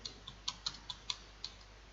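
Typing on a computer keyboard, a handful of light, close clicks in an uneven rhythm over a faint low hum, no talk.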